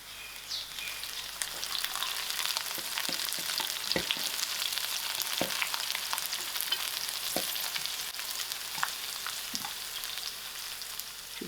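Onions fry with a cinnamon stick, bay leaf, thyme and curry leaves, giving a steady, dense sizzle punctuated by a few sharper pops and crackles throughout, close and unbroken, with no talking.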